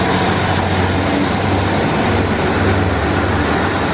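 A train rumbles along the London to Penzance main line near Newton Abbot in Devon, a loud, close, steady roar with a low drone that holds for the whole stretch, with no voices.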